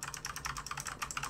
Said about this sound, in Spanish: Oigo como un